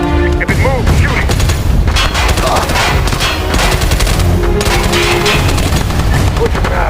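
Loud, rapid automatic gunfire from the military shooter SOCOM: U.S. Navy SEALs Fireteam Bravo 3 rattles in sustained bursts with sharp reports and booming hits, dense and close throughout.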